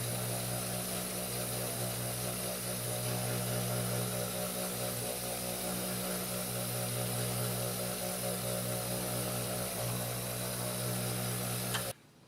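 A machine smooths and burnishes the wet edges of a custom leather shoulder holster, making a steady loud motor drone with a constant hum that runs unbroken, then cuts off abruptly at the end.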